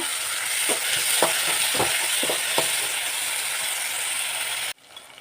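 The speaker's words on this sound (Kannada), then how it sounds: "ಈಗ ಟೊಮೆಟೊ ಹಣ್ಣು ಕೂಡ ಆ್ಯಡ್ ಮಾಡ್ಕೊತಾ ಇದ್ದೀನಿ ಇದು ಸ್ವಲ್ಪ ಫ್ರೈ ಮಾಡ್ಕೊಳ್ಳೋಣ" Onion and tomato frying in hot oil for a cluster bean and field bean stir-fry, a continuous close sizzle with a few light scraping stirs, cutting off abruptly near the end.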